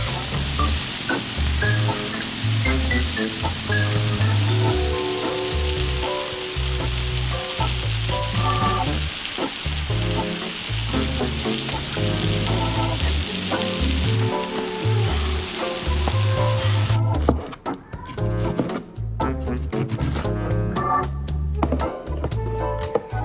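Chicken gyro meat sears on a hot griddle with a loud, constant sizzle and occasional stirring scrapes, turning into busier, choppier crackling and clatter near the end; no talking.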